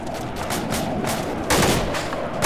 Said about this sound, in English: we're taking fire right now